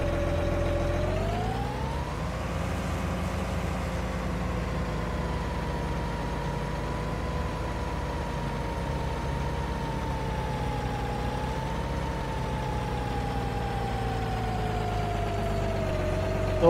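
An old tractor idles in Farming Simulator 19, a steady mechanical hum with a low throb that rises slightly in pitch early on, then holds constant and alone for many seconds.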